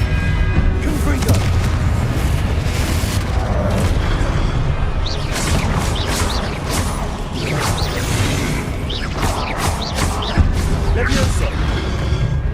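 In the Hogwarts Legacy video game, Confringo blasting spells explode in a loud, chaotic fight, with repeated booms, whooshes and crashes overlapped by shouted speech.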